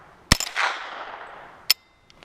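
Two sharp, loud close-range gunshots from a firearm at an outdoor shooting range, about a second and a half apart, each followed by a fading echo, with no talking.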